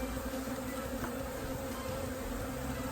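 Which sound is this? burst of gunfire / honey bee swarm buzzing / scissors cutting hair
honey bee swarm buzzing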